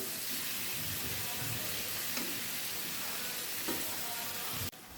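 Prawn heads frying in a pan with water added, a loud, continuous sizzle and hiss that holds steady right up close, with faint stirring scrapes now and then.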